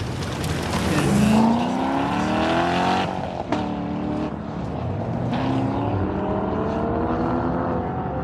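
Mazda Miata on an SCCA autocross course at Auto Club Speedway, engine revving up and down in quick rising and falling sweeps as the car works through the course, loud and close.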